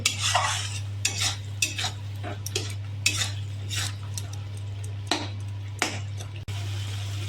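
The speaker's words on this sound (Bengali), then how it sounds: "মশলা কষানো হচ্ছে।" Spices with tomato being stir-fried for a jackfruit curry, with repeated scraping and clinks of a spatula against the pan over a steady low hum, fairly close and without talk.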